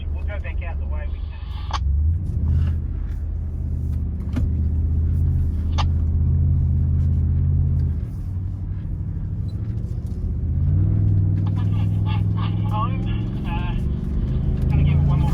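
A Nissan Y62 Patrol 4WD drives off-road, its engine a steady loud low rumble that rises and falls with throttle throughout, with cabin noise, rattles and people talking over it.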